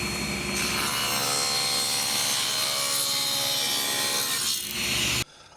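A table saw cutting a scrap wood rail, a loud continuous rasping whine from the blade biting through the wood that ends abruptly, with no talk.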